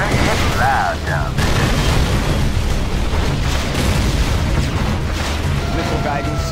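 Deep booming missile explosions rumble through a Command & Conquer Rise of the Reds battle, with dense low thuds and crackling debris, while unit voice lines chatter over the din.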